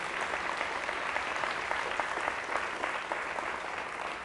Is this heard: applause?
yes